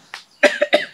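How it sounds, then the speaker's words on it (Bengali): A short burst of coughing, one small cough followed by a quick cluster of harsh coughs, close and fairly loud. "আরে কাশিস"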